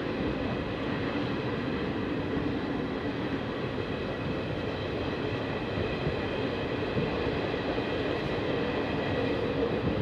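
The Mysuru–Talguppa Express pulls away from Tumakuru station in Karnataka, a continuous loud rumble of rolling coaches and rail noise heard from on board, steady with no voices.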